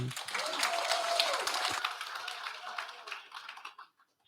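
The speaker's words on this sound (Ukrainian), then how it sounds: "Оплески." Applause from an audience at a game design lecture, a dense burst of clapping close by that fades gradually over a few seconds into silence, with a brief voice near the start.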